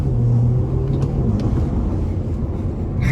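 2018 Audi A4 B9 accelerating hard under full throttle, a loud, close, deep engine drone with a rising tone, heard steadily from inside the cabin.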